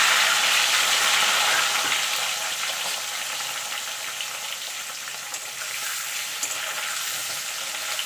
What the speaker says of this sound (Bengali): এবার আলুটাকে আমি একটু লাল লাল করে ভেজে নেব।